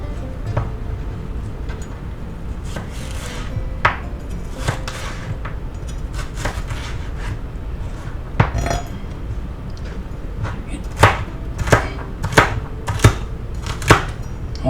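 A kitchen knife slices through ingredients for a tuna patty sub in a run of distinct close cuts. The strikes on a board come irregularly at first and then faster and louder toward the end, with no talk.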